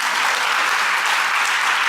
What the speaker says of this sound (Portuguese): Vamos aplaudir para valer.